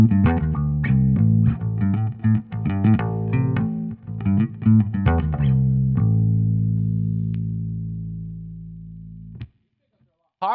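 An electric bass guitar with passive pickups, played through a preamp, picks out a close, loud run of punchy notes, then a final note rings and slowly decays to silence.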